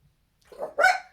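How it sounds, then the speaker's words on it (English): A dog gives two quick barks close by indoors, a short soft one followed by a louder, sharper one, alone in an otherwise quiet room. "sorry, that's my dog."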